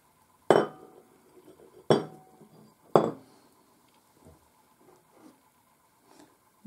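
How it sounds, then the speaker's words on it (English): Steamed vegetables tipped into a bowl make three sharp, close clinks about a second apart, each trailing off into a short ring, followed by a few faint taps and dish noises. "put the vegetables into a bowl"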